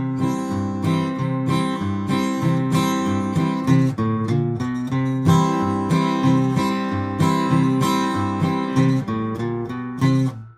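Guitar chords strummed briskly with steady alternating down and up strokes, even rhythm and bright attack, played alone with no talking.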